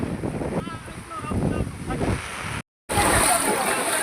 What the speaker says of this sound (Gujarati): અત્યારે આપણે જોઈ રહ્યા છીએ ગૌશાળાની અંદર પાણી ઘૂસવા માંડ્યું છે